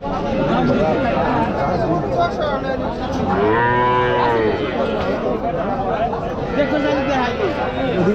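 Cattle moo at a busy riverside cattle market near Dhaka ahead of Eid al-Adha, one long low bellow rising over the constant chatter of a large crowd.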